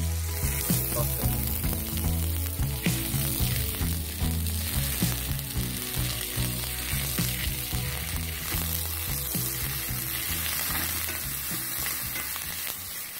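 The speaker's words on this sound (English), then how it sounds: "take a little bit of butter in our hot pan, get that melted, and put our onions in" Onions fry in melted butter in a hot pan, giving a loud, close sizzle with regular pulsing stir strokes and rattles for about thirteen seconds, with no one talking.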